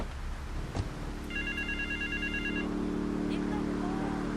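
A public phone in West Belleville Park rings in Grand Theft Auto III Definitive Edition, a short burst of rapid electronic trills over a bed of low city and engine noise, with voices nearby.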